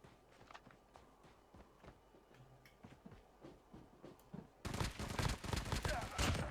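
A gunfight close by in the mobile game Call of Duty Mobile: first faint footsteps and scattered distant shots, then a sudden loud burst of rapid gunfire near the end.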